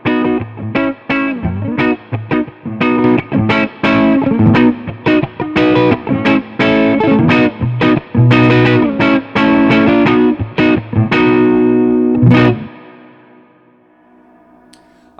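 An electric guitar runs through a Hum Bolt distortion pedal on a pedalboard, playing a loud, driven riff of chopped chords and bends before a final chord rings out and fades into near silence.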